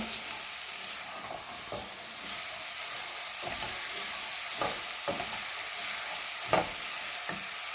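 Sugar is stirred in a pan for an apple pie egg roll filling. Scraping spoon strokes recur every second or so over a soft, steady sizzling hiss.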